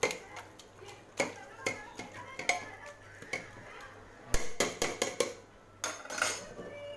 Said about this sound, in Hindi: ये देखिए इस तरह से अब हम इसको चम्मच से मिला लेते